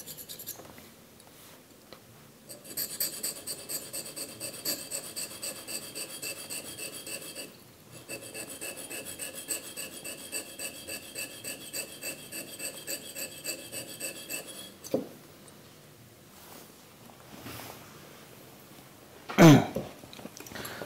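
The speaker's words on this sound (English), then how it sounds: "Every blade is polished with this stone." An iPhone underfill cleaner blade polished by hand on a grinder stone, giving a steady close rhythmic rasping rub in repeated strokes, pausing briefly, then ending with a sharp scrape.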